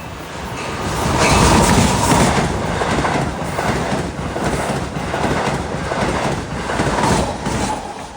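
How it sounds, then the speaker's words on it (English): A Long Island Rail Road Z train, a Ronkonkoma to Penn Station run led by locomotive 504, rumbles past close by with steady rolling noise and faint clickety-clack of wheels over rail joints, swelling and holding loud throughout. "116 approaching a Z train, 7953, Ronkonkoma to Penn Station"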